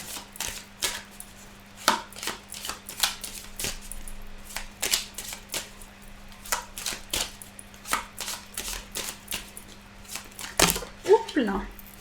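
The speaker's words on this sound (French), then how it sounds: "Il y a beaucoup de cartes qui sont tombées. On va mélanger comme ça." Oracle cards shuffled by hand on a table, making a rapid series of crisp slapping and riffling strokes close by, irregularly spaced, with someone talking briefly.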